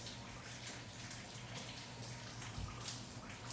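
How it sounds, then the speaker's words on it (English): Steady splashing water drips continuously nearby from a ceiling leak onto a vacuum cleaner during a Texas winter storm, a constant wet patter with no speech over it. "it's still dripping real strong over here"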